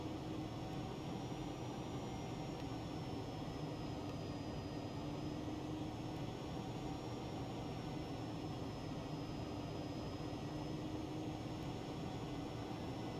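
A Cirrus Vision Jet in flight in X-Plane 11, heard as a steady, even cabin drone of engine and airflow with a faint high whine, unbroken and constant for the whole stretch.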